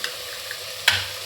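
Food stirred and sizzling in a pan, a continuous hiss with a brief scrape of the spoon near the end.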